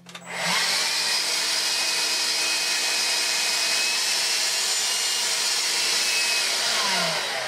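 A Vax Air Cordless upright vacuum cleaner switches on and ramps up to a steady, high-pitched whine with a faint hiss, running alone and close at a constant level before beginning to wind down at the end.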